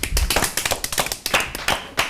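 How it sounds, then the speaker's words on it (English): Hand clapping, a single person's claps in an uneven series of sharp, close smacks over about two seconds, with no talking. "Why are you clapping?"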